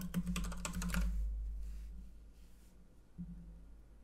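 Typing on a computer keyboard: a close, rapid run of clicking keystrokes for about a second, then quiet apart from a couple of isolated taps.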